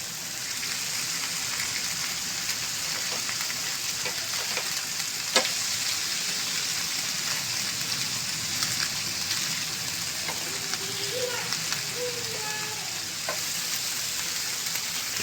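Maggi noodle omelette batter frying in a hot pan, a steady close sizzle and crackle running throughout with faint scraping and stirring clatter over it.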